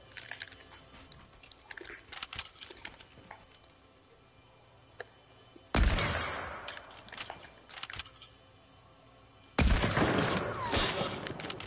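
Gunshots in the video game Fortnite crack out in two loud, sharp bursts separated by a few seconds, standing over a quieter bed of small ticks and clicks from gameplay.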